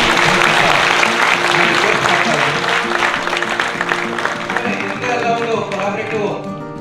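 A crowd at an education academy event in Mysore breaks into sustained, dense applause, loud and steady throughout, with some voices mixed in and the clapping thinning slightly toward the end.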